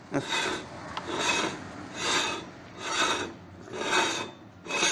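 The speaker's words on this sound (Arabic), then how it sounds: "الفحمات او الباتنات قاعدين يحكوا على حديد" A car's worn brake pads grind on metal: a harsh rhythmic scraping repeats about once a second, five or six rough grinding passes like metal rubbing on metal, fairly quiet with no voices.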